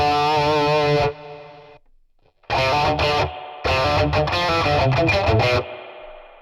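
Sustained electric guitar chords ring out through a Boss Katana 50 MKII EX amplifier with a spring reverb effect, played in several bursts separated by a short quiet gap.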